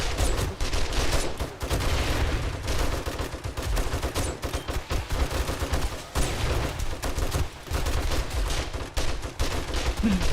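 An M60 machine gun fires in the video game 7 Days to Die, with loud, rapid bursts of automatic gunfire in quick succession, sustained throughout with brief gaps and no speech.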